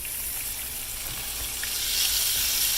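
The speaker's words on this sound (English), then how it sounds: "So you're just going to want to brown this really good." Meat sears in a braiser, making a steady, close sizzle and crackle of frying that swells slightly toward the end, with no voices over it.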